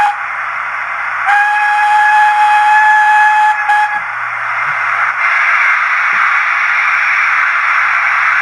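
A model steam locomotive's sound decoder plays a bright, sustained whistle lasting a couple of seconds. A steady hiss runs underneath it, and a second shorter whistle follows.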